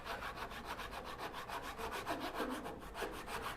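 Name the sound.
hand saw cutting wood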